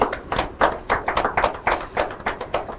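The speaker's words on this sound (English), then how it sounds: "we can clap if we want to clap and make it loud. Come on, let's applaud them." Clapping from an audience at an inter-collegiate quiz competition, about a dozen distinct, close, rhythmic claps that come in quick irregular bursts and stand clearly on their own with no talk.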